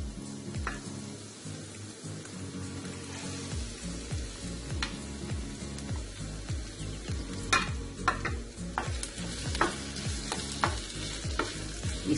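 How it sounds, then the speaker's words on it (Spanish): Cuttlefish sizzles and spits in frying sofrito as it is stirred, with steady crackling and repeated scraping strokes of a utensil against the pan, close and continuous. "Ahora vamos a añadir la sepia."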